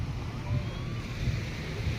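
Waves washing onto a beach in Pattaya, Thailand: a continuous low rumble of surf mixed with wind buffeting the microphone, fairly close and steady, with no clear voices.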